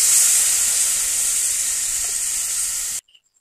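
Water hits a hot pan of prawns and Malabar spinach stalks, giving a loud, steady hissing sizzle that cuts off abruptly, leaving near silence.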